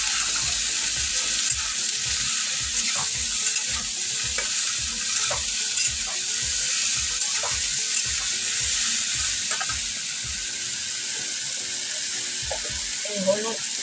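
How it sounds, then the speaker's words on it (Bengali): Khorkon leaves fry in a pan with a steady, close sizzle, broken by regular scraping strokes of a spoon stirring them, and no talking. "এখনই ভাত নামালাম, নামিয়ে তারপরে খারকন পাতাটা ভাজলাম।"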